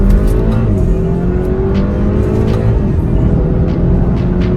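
A BMW X4 SUV coupe accelerates with a steady, loud engine drone that climbs gradually in pitch, heard from inside the cabin, with road and wind roar underneath.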